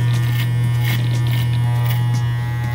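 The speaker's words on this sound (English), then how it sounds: "Shave my line up a little bit more." Electric hair clippers buzz steadily and loudly up close while they shave along a hairline during a self-haircut. The strong motor hum runs without a break, with faint cutting crackles on top and no talking.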